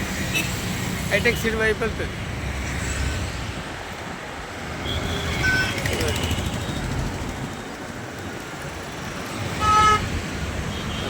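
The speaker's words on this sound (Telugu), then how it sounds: "ఈ బస్సులు వస్తున్నాయి" Buses and other vehicles roll through busy Hyderabad traffic, with a steady road roar and a few short horn toots near the middle and end, while someone talks over the noise throughout.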